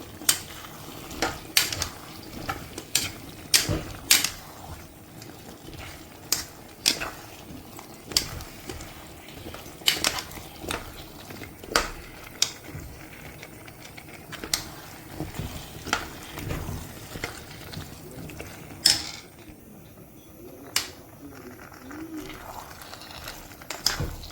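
Damson pickle ingredients are mixed with a utensil, producing irregular clinks and scraping knocks against a container, fairly close and spaced every second or so over quiet background.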